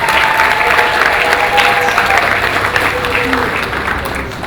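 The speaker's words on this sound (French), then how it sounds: "Est-ce que ça ne mérite pas des applaudissements maintenant?" Audience applause at a celebration honoring a musician's 20-year career, a dense sustained clapping from a crowd that holds steady and eases slightly at the end, with faint tonal sounds beneath.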